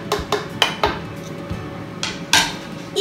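An onion is chopped with a knife on a cutting board in a home kitchen, giving a series of sharp, close knocks in an uneven rhythm, about seven or eight strikes over a few seconds, with no talk.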